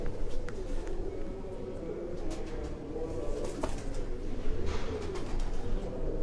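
Pigeons coo softly in a low, steady murmur at close range, with a few faint chirps and background noises mixed in throughout.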